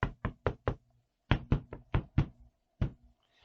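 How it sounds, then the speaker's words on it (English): Loud knocking on a bedroom door at dawn: a quick run of four raps, a pause, then a longer burst of sharp knocks with one final rap, close and clear. "Abbot Bernard was wakened by the first rays of dawn and a loud knocking on his bedroom door."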